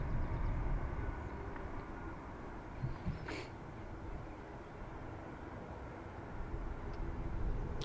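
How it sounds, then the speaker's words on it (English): A KLM Embraer jet arriving at Dublin Airport: a steady, broad engine roar held at a fairly even level, with a thin whining tone rising briefly partway through. "hear the distinctive Wookiee sound from our KLM, as the Embraers make kind of a, I can't do the sound, but a Chewbacca kind of sound"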